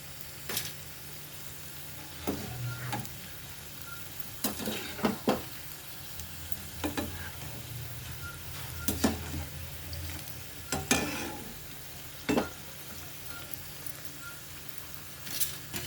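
Onion pakodi made with green gram fry in hot oil under a soft constant sizzle, broken by scattered sharp clinks and scrapes of a utensil lifting pieces, with no talk.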